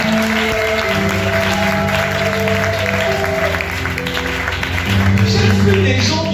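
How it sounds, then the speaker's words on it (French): A church congregation applauds in dense, steady clapping that fills the whole stretch. Sustained musical tones ring beneath it and swell louder near the end. "Tu applaudis la claque."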